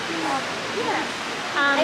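Water trickles down a greenhouse cooling wall, a steady broad wash of sound with voices talking faintly over it.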